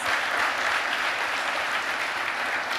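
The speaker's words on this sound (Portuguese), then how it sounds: "Vamos dar um aplauso, igreja, por essas vidas." A church congregation applauding together, dense and even clapping that fills the room at a steady level from start to finish with no voices over it.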